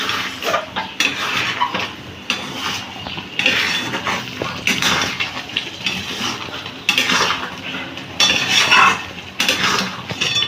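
A spoon scrapes and clinks against a metal pan while pointed gourd (potol) curry is stirred thoroughly, the scraping coming in repeated close bursts over a faint sizzle, with no talking.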